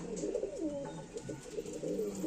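Flying pigeons, short-feathered birds kept for seasonal flying, coo in soft, repeated low bursts. The cooing is steady and close, with no talk over it.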